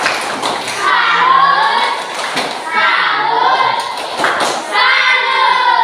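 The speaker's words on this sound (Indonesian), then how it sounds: "Tepuk salut." Fourth-grade elementary classroom children perform a rhythmic salute clap routine, with clusters of claps and thumps mixed with children's chanting voices throughout.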